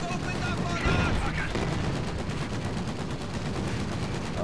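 Rapid gunfire from shock troopers in a Company of Heroes 2 battle, dense continuous crackle of small-arms bursts with battle noise throughout and a brief louder flurry near the start.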